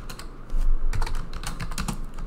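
Rapid keystrokes on a computer keyboard as a flow name is typed into Power Automate, a quick run of close, crisp clicks with no talking.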